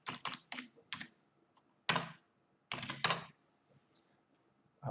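A computer keyboard is tapped to enter commands at a terminal, with quick clusters of crisp, close key clicks separated by short quiet pauses and no talking.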